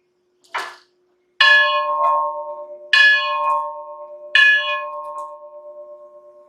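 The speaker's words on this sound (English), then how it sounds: "when you pick up your truck, you get to ring the bell" A bell rings three times at a slow, even pace, each strike clear and bright with a long shimmering decay, after one short softer tap at the start.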